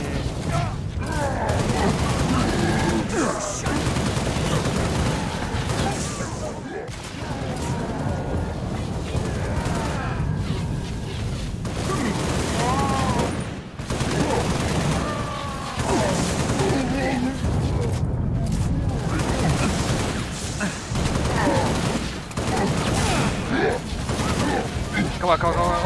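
Continuous combat gunfire in Halo Reach, sustained and dense throughout with explosions and voices mixed into the busy battle din.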